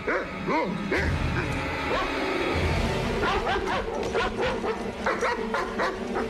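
A dog barks and whines repeatedly, close by, in excited bursts while someone talks over it.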